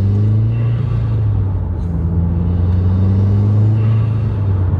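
A car fitted with an Invidia R400 catback exhaust idles and rumbles close by, a deep steady droning burble with a slight rise and fall in pitch throughout.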